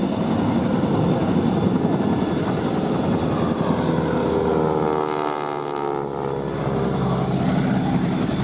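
An aerobatic aircraft flying a display at the Duxford air festival makes a loud, continuous engine and propeller drone that shifts in pitch as it passes overhead.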